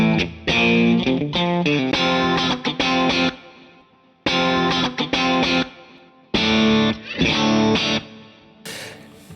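An electric guitar through a Mesa Boogie Single Rectifier amp on its clean channel plays Fender-style chords and riffs in bursts, strummed phrases with short pauses between, loud and close.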